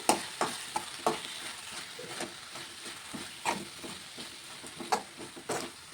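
Coriander leaves being stirred into an amaranth and tomato curry in a hot pan, with a steady soft sizzle under a run of repeated scraping strokes of a spoon on metal, close and fairly loud, with no talk.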